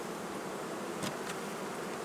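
Honeybees at a hive buzzing in a dense, continuous drone, close and steady, with a brief louder pass of a single bee near the middle.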